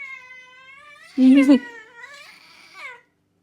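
A cat meows close by in a few drawn-out, wavering calls, one short loud cry in the middle, then a softer trailing meow before it falls silent.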